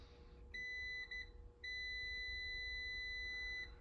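A continuity tester beeping across the normally closed terminals 5 and 6 of a relay, a steady electronic tone in short bursts followed by a longer continuous beep, fairly quiet.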